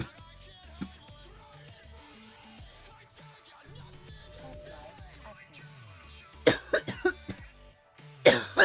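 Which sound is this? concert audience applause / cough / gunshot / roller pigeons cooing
cough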